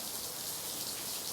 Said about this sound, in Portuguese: Está chovendo muito